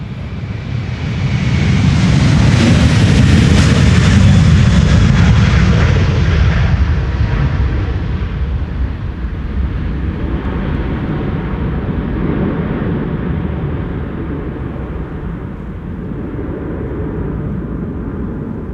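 A KLM Airbus A330-200 jet departs Schiphol's Polderbaan runway 36L, a loud, deep roaring rumble swelling over the first few seconds, peaking, then slowly fading as the airliner climbs away.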